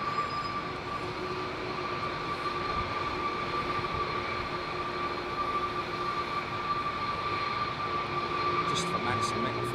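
Airliner with CF6 jet engines at Heathrow, a steady distant rumble with a sustained tonal whine running throughout, fairly faint, with a voice talking over it.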